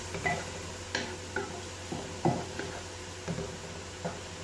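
Vegetables stir-fried on a high flame for chicken tikka macaroni: a steady low sizzle with scattered clinks and taps of a spoon against the pan, moderately close and fairly quiet.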